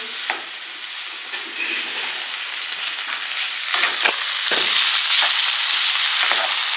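Ingredients being stirred and mixed in a hot frying pan make a loud, bright sizzle with scraping stirring strokes that swell toward the end, with no voices.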